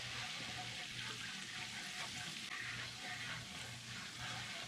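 A flour roux cooks in a pan, stirred with a whisk, giving a steady, soft bubbling sizzle with faint scraping strokes throughout and no talk.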